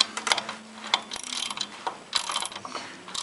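Nuts being tightened on a Bell and Gossett pump motor mount on a hot water boiler, a quiet run of quick ratcheting clicks and metallic ticks in short bursts, close up with no talking.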